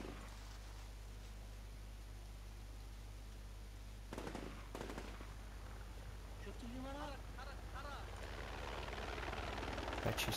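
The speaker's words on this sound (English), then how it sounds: "Apache sounds like it's coming in." In the war game Combat Mission: Shock Force 2, an Apache helicopter approaches with a steady rotor drone that grows slightly louder toward the end, while bursts of gunfire crackle and a voice speaks over it.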